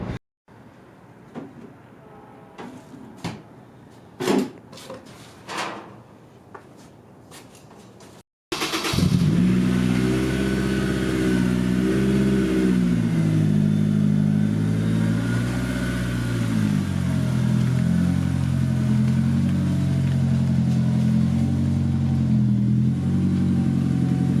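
A Honda S2000 running E85 fuel on a Haltech engine management system, street tuning: sparse quiet clicks at first, then after a brief silence a loud, close engine roar, held steady with rising and falling revs until the end.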